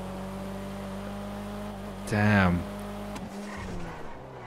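In the GTA 5 video game, a Nissan GTR R35 drag car hums at a steady engine note, then lets out a short, loud burst of squealing tires before settling back down, and someone briefly speaks.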